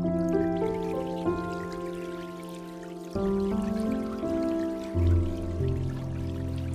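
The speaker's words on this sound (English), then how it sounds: "imagine a little water stream together with a piano" A Soundpaint sample instrument layers a gentle trickling water stream with sustained piano chords, the soft watery wash sitting beneath clear, slowly changing piano tones throughout.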